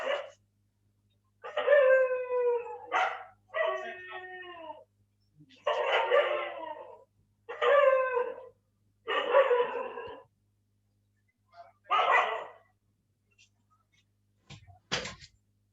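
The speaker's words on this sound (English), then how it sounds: "dog is barking outside." A dog outside gives a string of drawn-out barks and howl-like yelps, about eight bursts spread over fifteen seconds with pauses between them. It is moderately near, and no speech is heard.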